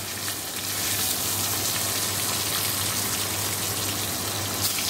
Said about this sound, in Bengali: তাই চিকেনগুলোই আগে ভাজবো